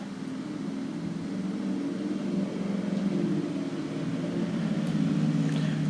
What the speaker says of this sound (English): I thought I did this late enough to avoid all the traffic noise outside, but no.